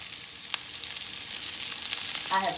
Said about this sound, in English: So I have the onions and the peppers sauteing.